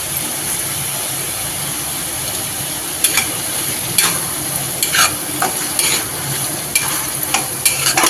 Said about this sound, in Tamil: தக்காளி வதக்க வந்து தேவையான அளவுக்கு உப்பு சேர்த்து நல்லா வதக்கிக்கலாம்